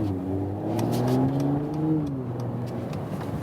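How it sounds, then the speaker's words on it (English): A performance car's exhaust note in comfort mode: a steady, close engine drone with a gentle rise and fall in pitch, heard on its own without talk. "but you already hear some exhaust note, of course."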